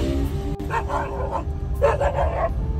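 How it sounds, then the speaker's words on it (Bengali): A dog by the road gives a few yipping barks close by, in two short bursts over a steady low background hum. "এই রোডটা দিয়ে আসলে এই কুত্তাটা মানে ঘেউ ঘেউ করবি"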